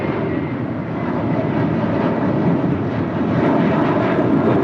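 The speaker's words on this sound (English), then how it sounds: "That was American Airlines flight 2833 heading to Dallas, Fort Worth, Texas in that flagship Valor livery in that A321." An American Airlines Airbus A321 jet departs LAX, its engines giving a loud, continuous roar that holds steady and swells slightly toward the end.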